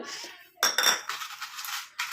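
Short metallic clinks of a spoon against a mixer jar while adding tea powder, a few sharp taps and scrapes close by.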